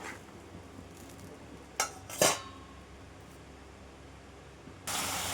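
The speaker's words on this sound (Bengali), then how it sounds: "দেখো মশলাটা আমার ভালোভাবে কষানো গেছে" A utensil clinks and scrapes against a pan while spice paste for a fish curry with pointed gourd and potato is stirred and fried, two sharp taps standing out over a quiet background hiss.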